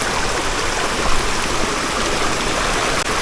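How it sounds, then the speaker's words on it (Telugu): A small waterfall drops from a great height in a deep forest in November, making a steady, loud, close rushing roar of falling water with no talk. "చిన్నగా ఉన్నా చాలా హైట్ నుంచి ఉంది వాటర్ ఫాల్."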